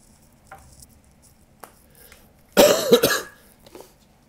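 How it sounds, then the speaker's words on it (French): A single harsh cough bursts out close by, with a quick follow-up hack, after several seconds of near silence with faint sniffs. "désolé si je tousse et que je renifle"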